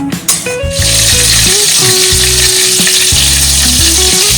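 Boiled eggs fry in white oil in a wok for a Tangra-style chilli egg dish. A loud, dense sizzle starts abruptly and holds steady, with a low tonal hum running beneath it.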